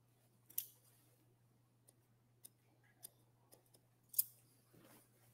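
Scissors point-cutting hair while shaping a square fringe: a few sparse, sharp snips and ticks spaced irregularly, close and quiet against near silence.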